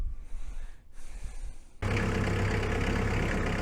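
A 100-horsepower loader tractor on a winter cattle farm. After a quiet stretch of faint breathy rustling, the engine cuts in abruptly and runs loud and close in a steady, rumbling idle.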